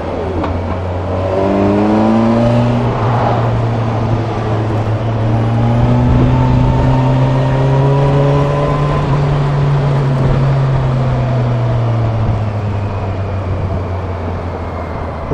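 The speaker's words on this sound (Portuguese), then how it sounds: "Mas só que um 4 cilindros esticando é muito bom" A Kawasaki Versys 1000 GT four-cylinder motorcycle engine revving high, the pitch climbing and holding steady as the engine stretches out loud and close for about fifteen seconds.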